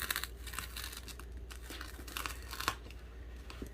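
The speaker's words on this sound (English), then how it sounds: "I'm just going to use a regular knife and cut about 1-inch" Regular kitchen knife slicing a foam pool noodle into one-inch sections, a continuous close rasping, crinkly scraping with a few sharper cuts, fairly faint and without talk.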